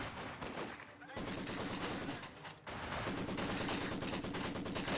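Maxim machine gun firing in Company of Heroes 2, sustained bursts of rapid automatic fire with brief breaks between them, dense and continuous under faint game ambience.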